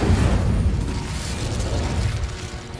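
A Confringo blasting spell explodes in the Hogwarts Legacy video game, a loud, sustained, rumbling boom that stays dense and heavy through the whole moment with no voices over it.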